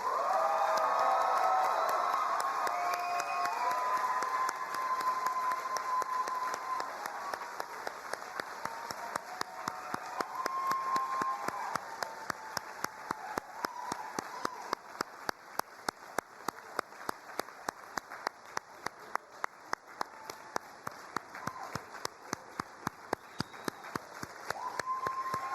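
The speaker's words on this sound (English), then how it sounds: "If you will join me one time in a very loud round of applause for our 2026" A crowd at an IVCC LPN pinning ceremony for 2026 graduates claps in a long, sustained round of applause, loud at first and steadily thinning, with cheers and voices mixed in and regular rhythmic claps toward the end.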